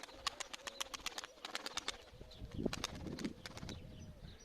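A tumbler pigeon coos in low, repeated rolling calls close by, with sharp clicks and faint chirps scattered through the background.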